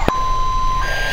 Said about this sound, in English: Oh no, I just armed an alarm.